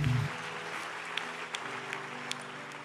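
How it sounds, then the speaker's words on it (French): A church congregation applauding together after a prayer, a steady wash of clapping filling the room with a few sharper individual claps standing out, and no talking over it. "on peut acclamer le Seigneur et se rasseoir"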